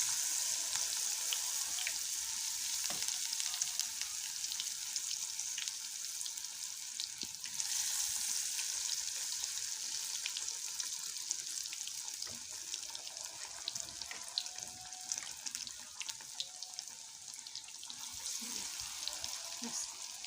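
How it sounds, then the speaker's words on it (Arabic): An Egyptian-style cauliflower mixture fries in oil with a continuous soft sizzle and scattered crackles, close and fairly quiet, with faint clinks now and then. "بحطها في الزيت، في الزيت كده"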